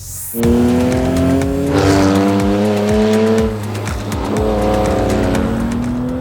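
A supercharged Porsche 911 engine revs hard and climbs through gears, loud and close, with a sharp supercharger whine rising over the roar.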